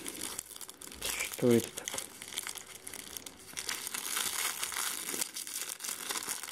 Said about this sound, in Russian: Так, открываем.